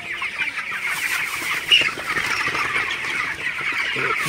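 Broiler chickens cluck steadily as a flock at night while drinking vaccine-treated water in a poultry shed, with dense, continuous overlapping calls close by and one brief louder squawk.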